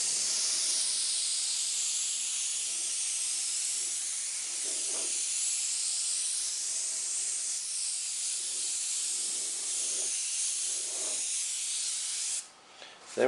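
An airbrush sprays straight white paint lightly around the edges of a piece, making a steady, close hiss that runs almost unbroken. It cuts off abruptly near the end.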